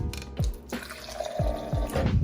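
Drinking water is poured into a cup or bottle, a close trickling pour broken by a few knocks and clicks of handling, with no one talking.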